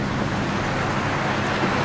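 A motorcycle engine runs steadily nearby, a constant broadband rumble with no rise or fall in pitch, filling the short moment without any voices.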